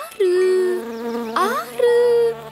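Cartoon bees buzzing in an animated Azerbaijani alphabet film, a steady sustained drone lasting most of the moment with a brief break, loud and close with no speech over it.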